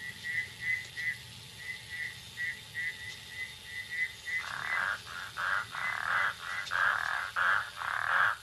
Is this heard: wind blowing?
no